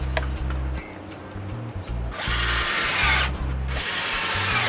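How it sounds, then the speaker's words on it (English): A power drill drives screws through carpet on the top of a homemade cat tree, in two loud whirring bursts of about half a second and a second, over a steady low background hum. "we're going to shoot a few screws in here to hold that carpet in place on the top part"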